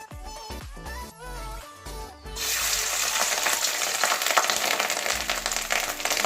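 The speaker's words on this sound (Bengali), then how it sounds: "তারপরে আঁচটা একদম কমিয়ে দিয়েছি মাছের ডিমটা ভাজবো" Fish roe frying in a pan over very low heat, with no flour coating, for a Bengali fish-roe kalia; a short run of clinks and tones gives way to a steady, broad sizzle that holds for several seconds.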